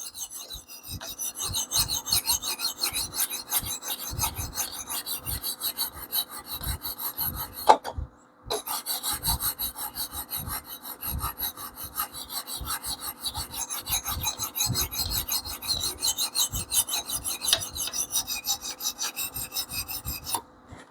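Damascus steel knife drawn across a 600 grit sharpening stone, a steady series of close, raspy strokes with one brief pause midway. No voice.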